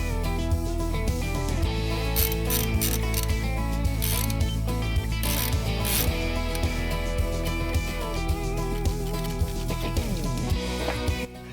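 Repeated ratcheting clicks from a wrench bolting new differential gears into an axle housing during an E-locker install, steady and close throughout, with dense mechanical clatter over a low hum and no talking.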